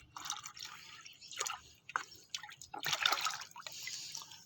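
Liquid fertilizer water poured into a larger volume of water, splashing in uneven bursts with short pauses between pours, fairly close.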